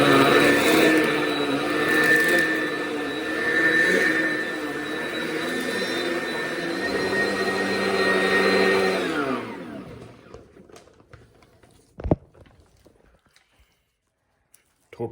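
A loud commercial vacuum cleaner roars steadily in a college building for about nine seconds, then shuts off and winds down, leaving near silence with a couple of sharp knocks.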